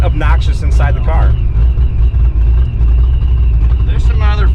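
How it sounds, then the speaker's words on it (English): Supercharged 347 Foxbody Mustang running loud and steady, with sharp exhaust snaps and crackles in short bursts, heard from inside the car under continuous talking. "You hear those little snap, crackle, and pops too."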